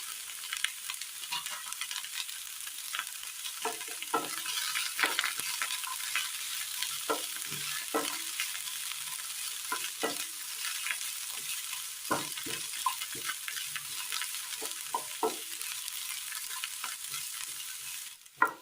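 Sliced onion and green chillies sauté in a pan, a soft steady sizzle under repeated light scraping and stirring taps, close but fairly quiet.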